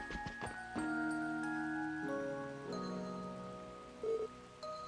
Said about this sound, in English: Still drizzling, huh?